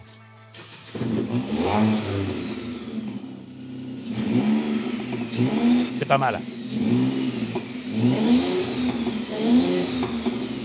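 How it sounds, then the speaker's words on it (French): A car engine starts and revs repeatedly, rising and falling in pitch with throaty bursts, while people speak briefly nearby. "Le son du moteur Ford donne des frissons dans le dos"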